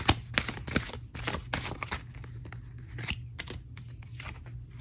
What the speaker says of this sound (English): Oh, here's this card was shuffled very, very well.